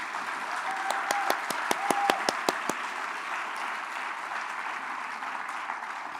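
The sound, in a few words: audience applauding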